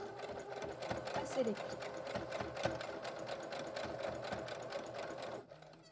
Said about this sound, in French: Je réalise mon point d'arrêt.